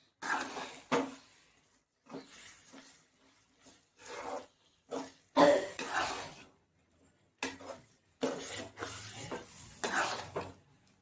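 Potato and green pea gravy being stirred in a pan, with irregular bursts of scraping and rubbing, separated by short pauses, close by.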